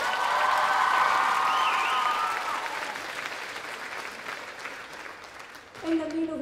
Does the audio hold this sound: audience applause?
yes